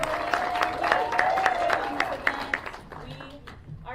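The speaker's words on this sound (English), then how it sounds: "And finally, Melinda, let's give her a round of applause." Audience applause at a live motivational speech event, crowd clapping with distinct individual claps under a speaking voice that runs over most of it, fading toward the end.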